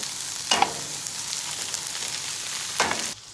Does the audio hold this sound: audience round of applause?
no